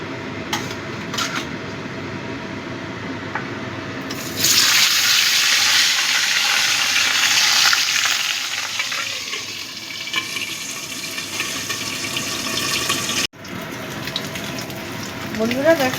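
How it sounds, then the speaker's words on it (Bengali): Pieces of katla fish drop into hot oil in a wok and set off a sudden loud, steady sizzle that later settles to a softer crackle, with a few clinks of a utensil. "তেলটা ভালো মতো গরম হয়ে গেছে, এবার আমি মাছগুলো ভেজে নেব"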